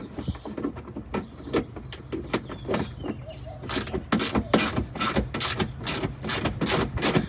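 A small 1/4-inch ratchet working fasteners while an ARB bumper and Warn winch go onto a Toyota Sequoia, close rapid clicking that starts uneven and then settles into a fast, steady run of pawl clicks.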